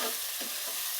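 Okra fries in a pan with a dense, loud, continuous sizzle while a utensil stirs through it, giving a couple of soft scraping swells within a single second.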